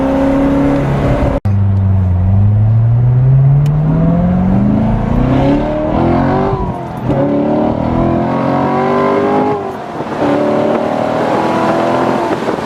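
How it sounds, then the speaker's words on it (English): A 2014 Chevy Corvette Stingray convertible pulls away and accelerates through rising gear sweeps, its engine loud and close with shifts and steady roar on an open desert road, no talking. "Give the Corvette a good workout"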